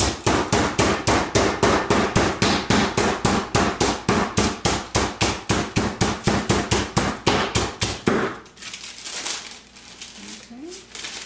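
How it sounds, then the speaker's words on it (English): Chicken breast between sheets of parchment paper is pounded with rapid, regular heavy thuds, about four per second, continuing for several seconds before stopping, followed by faint handling noise. "we're going to pound this to 1/4 inch consistency"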